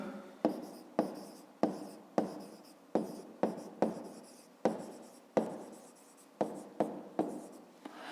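Handwriting on paper while working a fifth-grade math exercise, quiet repeated strokes and scratches in short irregular bursts, close and soft with no talk.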